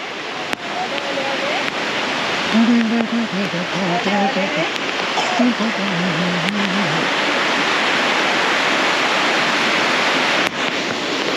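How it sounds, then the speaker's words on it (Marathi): Waterfall at Marleshwar temple in Ratnagiri, Konkan, a loud, steady rushing roar heard close by, with a voice talking over it in the first half. "फक्त वॉटरफॉल बघा"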